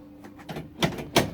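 Door lock mechanism on a 1972 Range Rover, operated with a few short mechanical clicks and clunks. Two sharper knocks stand out near the end, close and fairly quiet, with no talking.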